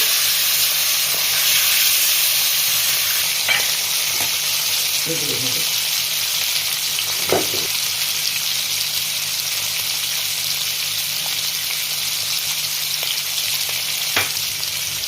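Pieces of hilsa fish frying in hot oil for a mustard-oil curry, a steady close sizzle throughout with a few soft clinks and utensil taps, no talk.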